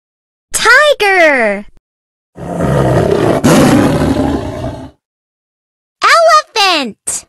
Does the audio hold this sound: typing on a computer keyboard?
no